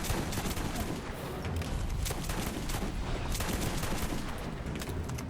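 Dense, continuous blasts and rapid gunfire fill a chaotic firefight in the video game Borderlands Remastered, with a grenade explosion buried in the steady, loud barrage.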